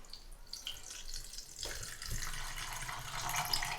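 Two cups of water poured into a blender jar over spice paste for golgappa pani, a steady splashing pour that swells in from near quiet and runs on to the end, with no talk.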